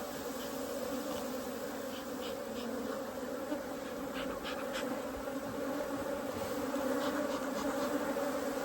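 Africanized honey bees swarm around a Langstroth hive in a residential area, a dense, constant buzzing drone with individual bees zipping close past now and then, and no voices.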